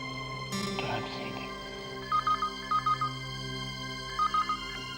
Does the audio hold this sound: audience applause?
no